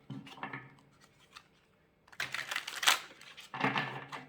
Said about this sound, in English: Get those cards that were pulled out already shuffled in there real good.